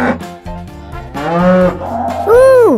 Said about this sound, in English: Ooh, a cow.